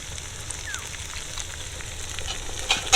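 Vegetable Manchurian sauce with soy sauce and vinegar is mixed in a hot pan, giving a steady close sizzle with soft stirring scrapes throughout and a brief clink near the end.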